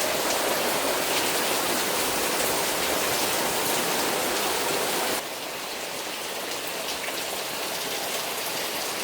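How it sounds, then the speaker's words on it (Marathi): Heavy rain pours over a garden in the Konkan region, making a dense, steady roar of drops close by that grows slightly softer about halfway through. "पाऊस भरपूर पडतो."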